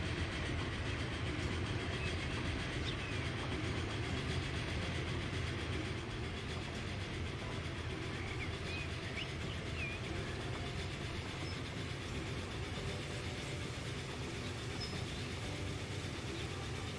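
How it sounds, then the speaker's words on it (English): A train runs continuously in the railway simulation game Transport Fever 2, a steady rumbling drone with faint rail clatter and no speech, holding an even level throughout. "there's the other train, which seems to be doing okay for now"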